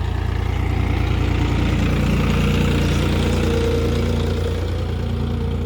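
A John Deere 5305 tractor engine idles steadily nearby, a low, throbbing diesel rumble with constant vibration and no voices.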